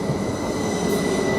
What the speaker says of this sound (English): now we've got another train coming in here at the same time